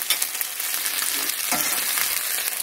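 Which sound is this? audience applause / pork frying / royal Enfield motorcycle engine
pork frying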